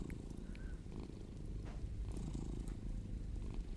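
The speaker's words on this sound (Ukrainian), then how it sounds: "Він десь мурчить." A video game cat purrs continuously up close, a low rumbling vibration that holds steady throughout with no voices.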